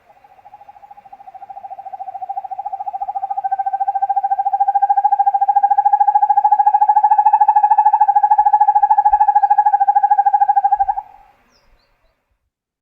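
A northern hawk owl gives one long, unbroken call lasting about eleven seconds. It rises from soft to loud and stays close and clear against a silent background before it stops abruptly.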